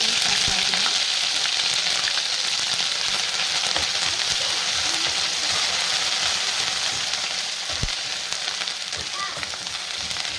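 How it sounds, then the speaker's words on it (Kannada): Crushed green chillies and garlic frying in hot oil as a tempering for egg rice, a loud continuous sizzle with occasional stirring scrapes and a sharp clack near the end, no talking. "ಎಣ್ಣೆ ಕಾದಿದೆ. ನಾನು ಇದಕ್ಕೆ ಈಗ ಜಜ್ಜಿರೋಂತಹ ಹಸಿಮೆಣಸಿನಕಾಯಿ, ಬೆಳ್ಳುಳ್ಳಿ"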